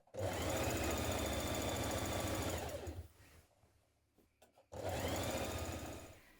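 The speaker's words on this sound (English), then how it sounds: "we're going to stitch all the way around" A sewing machine runs a long, steady seam on a Vogue 9100 dress with a large stitch, stops for a few seconds of quiet handling clicks, then starts up again loud and close.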